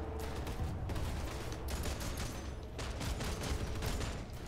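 Sniper gunfire in a video game, with dense overlapping shots crackling continuously over a steady loud background roar, without a clear pause.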